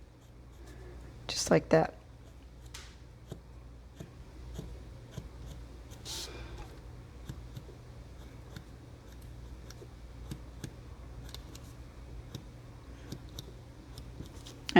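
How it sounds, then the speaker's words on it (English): A Stampin' Write marker drawn down a sheet of paper to the edge, giving a short, close scratchy stroke near the start and then faint scattered ticks, with someone talking over it. "I just took my Stampin' Write marker and pulled the color down"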